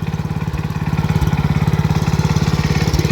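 A John Deere 112H lawn tractor, long unused and still smoking, runs steadily with a rapid, even putter from its small engine, close and loud and unbroken throughout.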